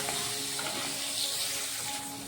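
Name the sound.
potatoes frying with salt and turmeric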